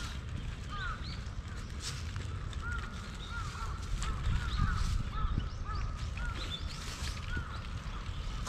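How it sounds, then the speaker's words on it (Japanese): Birds call repeatedly with short honks and caws across a park pond at Inokashira Park in Tokyo, scattered and somewhat distant over a low outdoor background. "鳥がおるな。"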